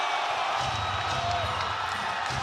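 Loud crowd noise filling a basketball arena during an ASEAN Basketball League game between Hong Kong Eastern and Macau Black Bears, a steady dense roar throughout with a low rumble underneath.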